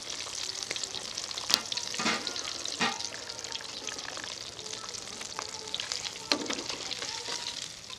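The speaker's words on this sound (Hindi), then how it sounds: "सारी मछली को मैंने फ्राई कर लिया है।" Fish pieces frying in oil in a karahi, a continuous crackling sizzle with a few sharp pops and spatters, heard alone without speech.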